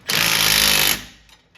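One loud, close burst of an impact wrench hammering on wheel bearing bolts of a 2008-2013 Toyota Highlander, rattling steadily for about a second before spinning down.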